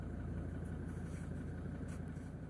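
Ford Ranger 3.2 engine running at a low, steady rumble, faint and continuous with no voices.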